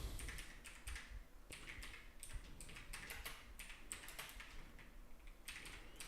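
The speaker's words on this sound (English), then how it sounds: "I'm typing with one hand." Someone types one-handed on a computer keyboard: a close, irregular run of crisp key clicks with short pauses between bursts, and no voices.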